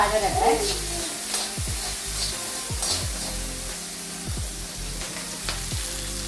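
Crushed onions sautéing in a pan for a spicy beetroot stir-fry give a continuous sizzle, with a utensil scraping and stirring in a regular rhythm, up close and alone.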